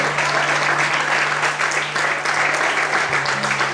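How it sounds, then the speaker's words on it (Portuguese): A church congregation applauds during an evening service, loud dense clapping filling the room steadily throughout, with a faint hum beneath. "Será que você pode aplaudir o Senhor?"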